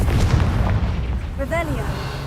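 A Confringo fire spell bursts in Hogwarts Legacy with a loud, low boom that fades into a rumble, while a voice speaks briefly over the tail.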